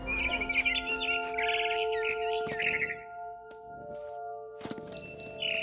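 Bright chirps and tweets from a barn swallow in What Remains of Edith Finch, clustered in quick bursts over a steady tonal music bed, fairly close.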